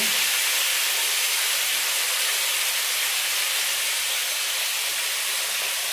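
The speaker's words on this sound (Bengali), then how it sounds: "কাঁকড়াগুলো একটু ভেজে নিই, একটু হলদি দিয়ে দেবো" Crabs frying in a pan with turmeric, a loud continuous broadband sizzle that holds steady and close without breaks.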